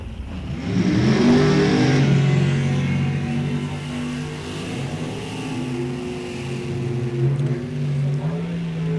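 Supergas drag race cars launch side by side at an NHRA National Open event, their engines roaring loudly and sustaining a heavy, layered drone as they accelerate down the strip.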